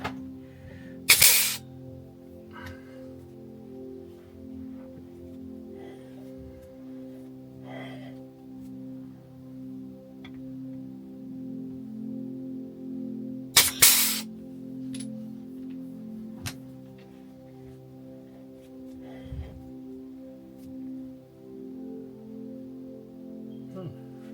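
Grease sprays into a NATO trailer hitch in two short, sharp hissing bursts about twelve seconds apart. Faint ticks and handling noises fill the quiet stretch between them.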